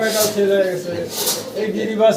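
Pigeons cooing in a crowded pigeon loft on a farm, a low soft burbling coo repeating close by, mixed with background voices.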